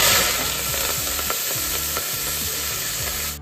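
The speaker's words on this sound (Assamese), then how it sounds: "ঘিউ এচামুচ দি দিছোঁ এতিয়া এয়া পাঁচফোৰণে তেজপাতে দি দিছিলোঁ ফুটাই লওঁ" Panch phoron and bay leaves crackle and spit in hot ghee inside a pressure cooker, a steady, close, busy sizzle with scattered sharp pops that runs without pause until it drops away abruptly at the end.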